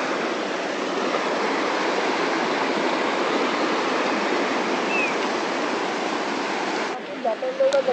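River water rushes loudly and steadily near Dhodhavane waterfall in a Konkan village. The even, broadband roar fills most of the stretch, then drops sharply near the end, leaving a few brief, closer sounds.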